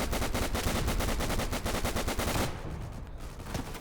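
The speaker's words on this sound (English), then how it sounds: "Fuckers always open with artillery, don't they?" Heavy, continuous battle fire in the Battlefield 1 Dunkirk update, with rapid repeated blasts for two and a half seconds before dropping to a quieter, rumbling background.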